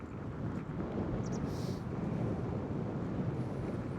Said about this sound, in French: encore une fois, il y a beaucoup de vent.